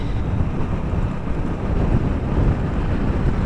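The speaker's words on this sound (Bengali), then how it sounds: "ঠান্ডা বাতাস কি বাতাস" Wind roars steadily against the microphone during a motorbike ride over a flyover near Chattogram port, a dense, low buffeting rush with no pauses.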